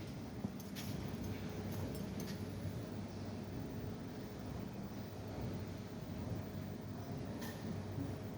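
A Forest Hills-bound subway train at Roxbury Crossing station gives a continuous low rumble and rolling clatter, with a few sharper metallic squeals and clicks above it, steady and moderately loud and without voices.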